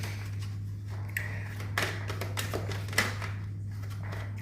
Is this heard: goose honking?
no